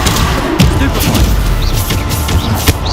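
A Stupefy spell goes off amid Hogwarts Legacy combat, a dense clatter of magical blasts and heavy thuds, with sharp whooshing impacts in quick succession over constant low rumble.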